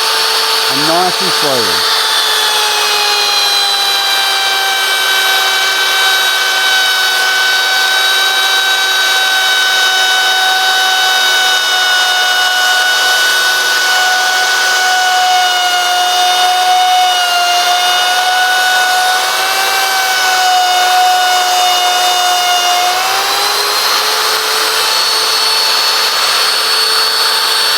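Woodworking router running steadily through timber along a jig, a loud continuous high whine with harmonic tones lasting throughout and shifting slightly in pitch near the end, with someone talking over it.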